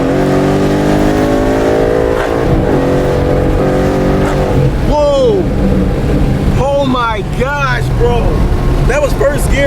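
A car on Toyo Proxes R888R tires accelerates hard in first gear from a 20 mph roll, its engine loud and close, rising in pitch with gear-driven whine, while someone talks over it.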